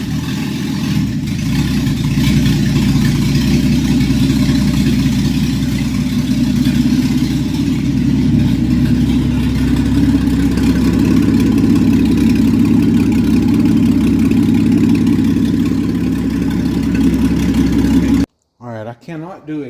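A 1969 Ford E100 Econoline van engine runs steadily at idle with a low, continuous rumble, loud and close, before cutting off near the end as a voice briefly speaks.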